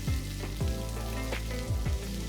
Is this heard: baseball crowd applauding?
no